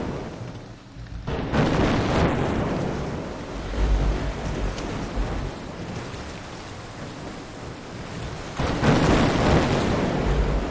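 Naval guns and shell explosions in the Victory At Sea Pacific campaign video game produce a dense, continuous roar of blasts and rushing noise, with louder bursts near the start and end.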